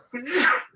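A single sharp sneeze, close and fairly loud, with a breathy burst that fades quickly.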